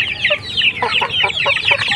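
Free-range village chickens cluck steadily and close by, with dense high peeping from young chicks throughout, busy and continuous with no talking.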